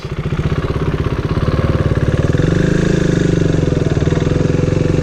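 A motorcycle in first gear pulls away as the rider gives a little gas, its engine loud and close with a steady throbbing pulse that rises slightly in pitch and strength midway, with no talk.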